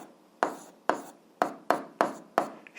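Pen or chalk marks strike a writing surface six times as an algebra equation is written out, each a crisp tap with a short scratchy tail, close and isolated in quiet.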